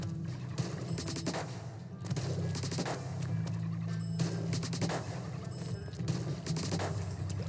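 Bloblobber bubble-lobbing weapon in the Splatoon video game fires in repeated rapid bursts, a dense stream of popping shots over a low steady hum, close and fairly loud.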